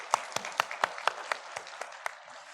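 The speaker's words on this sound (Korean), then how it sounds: "영광의 박수 올려드리겠습니다." A church congregation claps after a choir's worship song, with about ten distinct, evenly spaced claps that gradually soften in a short, rhythmic burst.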